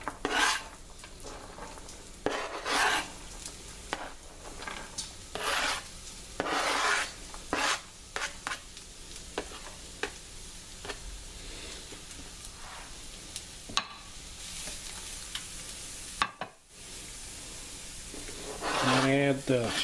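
Diced onion hitting hot olive oil in a pan over medium heat, giving a soft steady sizzle with scraping and stirring rubs throughout, close and fairly quiet, with a voice speaking at times.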